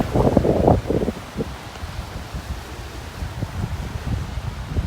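Strong wind buffets the microphone on a beach walk in North Naples, Florida, with loud gusts at the start and a steady roar continuing afterward. Heavy and close, with no voices.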